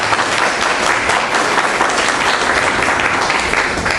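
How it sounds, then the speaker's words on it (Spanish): A church congregation gives a strong welcoming round of applause, thick, sustained clapping from many hands at full volume, steady from beginning to end without speech. "Démosle ese fuerte aplauso de bienvenida."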